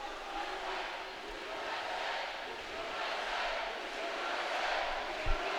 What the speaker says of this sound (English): And the crowd rising with the USA chant